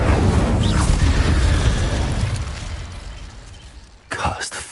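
Incendio fire spell cast in Hogwarts Legacy, a loud whooshing burst of flame with deep rumble that swells then fades over several seconds, followed by a sharp fresh impact near the end; a voice is heard briefly.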